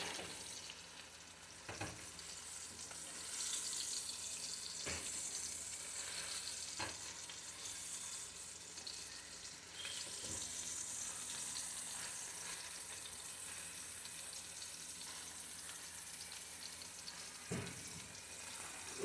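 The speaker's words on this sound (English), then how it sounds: "So we over here trying to cook some sausage and eggs." Sausage and eggs fry in a pan with a steady, soft sizzle and occasional scraping stirs, a faint tap-like wash beneath and a few sharp clinks, with no talking.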